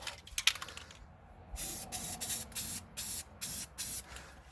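Spray paint hisses onto a car wheel in a series of short, even bursts with brief pauses between them, close and fairly quiet.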